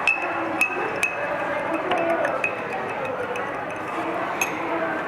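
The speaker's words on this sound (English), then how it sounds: "in another glass and mix it well." A spoon stirs two spoonfuls of salt into a glass of water, giving a series of light, irregular clinks and taps against the glass over steady background noise.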